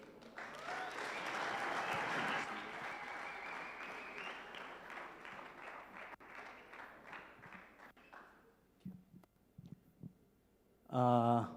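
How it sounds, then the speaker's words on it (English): A youth conference audience in a church hall claps for a presenter, a loud dense burst of applause that gradually thins out and fades, followed by a voice speaking at the end. "let's clap hands for him"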